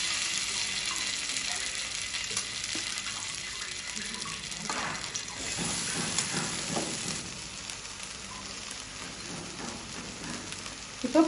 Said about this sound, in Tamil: இப்போ நம்ம பன்னீர் போட்டு ஃப்ரை பண்ணிக்கலாம்